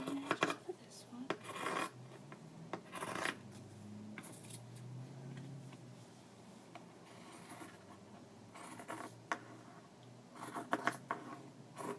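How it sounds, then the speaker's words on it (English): Scissors cutting quilt fabric along a marked black line, giving quiet, close snips and rubbing strokes in scattered short bursts with pauses between them. "I'm cutting on the black line to save me some trouble in the long run"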